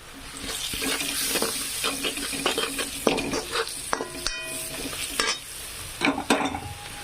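Sprouted moth beans tipped into a pan already seasoned with red chilli powder, salt and turmeric, then stirred, giving close frying sizzle and irregular spatula scrapes and clatter, with no talking.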